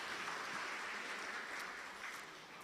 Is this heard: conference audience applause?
yes